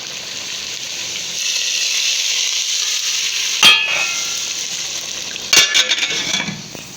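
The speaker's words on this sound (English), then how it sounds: "So now we will give it a tadka." Tadka of browned onion and two green chilies in hot oil, a steady near sizzle with a couple of sharp clinks of a utensil against the pan.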